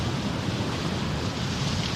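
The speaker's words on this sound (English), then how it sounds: "the west coast of Ireland gets some of the biggest waves in Europe" Ocean waves off the west coast of Ireland, a continuous broad roar of surf mixed with wind buffeting the microphone, steady and fairly loud throughout with no talking.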